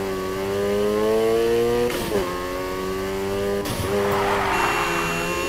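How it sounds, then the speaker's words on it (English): A car drifting in the racing game Need for Speed Heat: the engine holds a high, steady revving drone while tires squeal in sliding bursts, with sharp transient scrapes near the middle and toward the end. "Keep that drift going."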